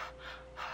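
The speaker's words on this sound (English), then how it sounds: "I'm breathing on mine to warm it up." Two soft, breathy exhalations onto food, one early and a stronger one near the end, close and fairly quiet, with no talking.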